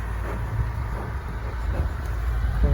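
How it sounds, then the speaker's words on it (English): Truck passing by near a beehive outdoors, a low rumbling engine drone that swells slightly toward the end, with no talk. "Sorry about the truck noise."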